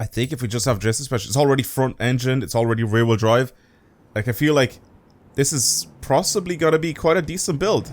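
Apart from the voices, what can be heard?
None of the usual background noises is heard.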